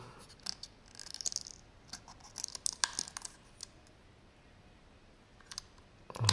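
Packaging for a GoPro Hero 7 Black camera is opened up close, producing quiet scattered clicks, scratches and crinkly handling noises with brief pauses, no voices.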